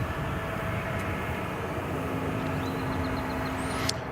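An American Airlines airliner taxiing toward its hangar at DFW Airport after a flight from Tulsa, a steady jet engine rumble and whine with a brief rising tone and a short click near the end.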